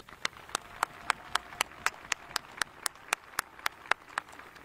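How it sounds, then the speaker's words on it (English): At a 2021 high school commencement ceremony, hands clap in a slow, even beat of distinct, fairly faint claps that run steadily from start to finish. "please join me with a round of applause as we show our appreciation for our teachers,"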